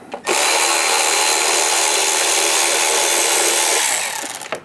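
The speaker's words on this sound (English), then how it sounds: "Let's see if we can get some of these timing cover bolts out." A power tool, probably a drill driver, spins steadily and loudly up close for about four seconds while backing T30 timing cover bolts out of a VW Mk5 GTI engine, with brief starts and stops at each end.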